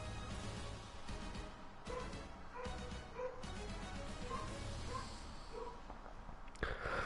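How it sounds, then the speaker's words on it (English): Several dogs bark and yip faintly in the background of a Gundam mecha combat game match, short repeated woofs spaced over a steady mechanical hum. "And there goes the dogs."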